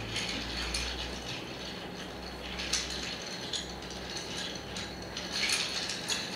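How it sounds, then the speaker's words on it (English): Ice rattling and clinking steadily as a Pusser's rum Old Fashioned is stirred in a glass, a continuous close, fairly quiet churn with no talking. "Give that a good stir. You really want to get that ice to chill down and dilute down that drink."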